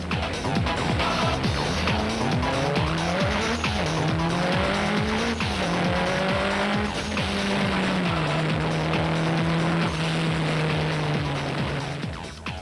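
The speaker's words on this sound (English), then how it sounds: "They saddled up the big Ford Ranger bearing number SP21 in the production car class." A Ford Ranger rally truck in the production car class races along a forest stage in the 2008 Eastern Cape 500. The engine roars loudly and steadily and rises and falls through gear changes, with tyre and gravel noise underneath.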